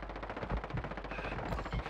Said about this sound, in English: I'm shooting you right in the chest